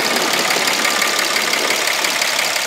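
A stock 2009 Dodge Ram 2500 Mega Cab with a 6.7 liter Cummins turbo diesel, factory airbox and exhaust, and EGR still fitted, idles in a steady, unbroken drone close by, with no talking.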